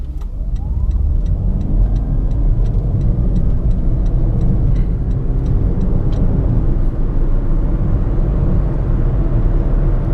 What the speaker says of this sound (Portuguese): Vamos fazer a saída em modo Eco e acelerar.